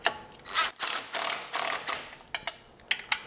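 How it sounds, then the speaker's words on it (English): Ratchet with an E12 Torx socket tightening steering rack bolts on a BMW E9x, several bursts of rapid clicking strokes followed by a few sharp knocks, close and fairly quiet with no talking. "You're gonna have to counter hold the nut with a 16 millimeter open-ended wrench and just use the E12 socket to tighten it down."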